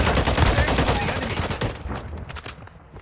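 Rapid gunfire in Warzone Mobile, a dense run of overlapping shots like automatic weapons, loud and continuous at first and thinning out toward the end.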